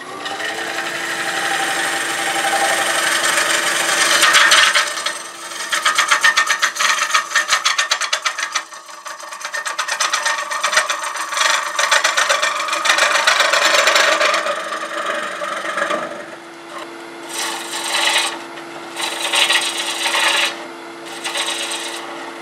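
A lathe gouge with a blunt grind cuts a rough-turned green Bradford pear bowl, making a continuous rasping, scraping hiss that swells and eases, then breaks into shorter cuts near the end.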